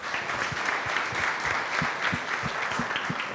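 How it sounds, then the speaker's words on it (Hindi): A class bursts into applause at a teacher meetup, steady dense clapping with a few distinct nearby hand claps punctuating the wash. "पहली ताली बजा दी है।"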